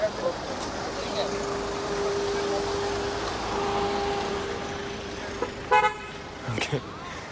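Steady traffic hum in a Port Blair traffic jam on the Andaman Islands, broken near the end by two brief, loud car horn blasts with a shorter toot between them.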